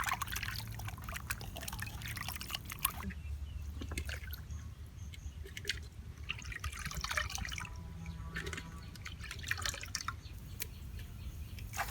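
Water splashing and trickling as quail meat is washed with turmeric and salt in a village kitchen, a continuous close, soft swishing and dripping with no talk over it.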